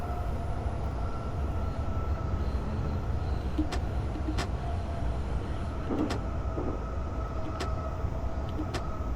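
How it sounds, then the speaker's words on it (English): Tohoku bullet train line crossing overhead, heard from inside a JR East Keihin-Tohoku E233-1000 commuter train as a steady rumbling rail roar with faint clicks and squeaks, continuous throughout. "the Tohoku bullet train line just crossed right over us"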